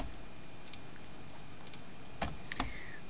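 Sparse keystrokes on a computer keyboard while entering data in an Excel spreadsheet, a few scattered clicks over a quiet background hum.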